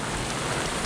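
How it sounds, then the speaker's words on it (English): Heavy Florida rain pours down around a Hallberg-Rassy 54 sailboat at anchor in Beaufort, a brief, steady, dense hiss of close drops with no voices. "And when Florida rain comes,"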